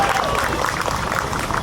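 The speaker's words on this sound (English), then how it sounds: "Let's give a round of applause for the Papillons" A festival crowd applauds a team of Papillon dogs about to perform tricks on stage, a short dense burst of clapping and cheering close by.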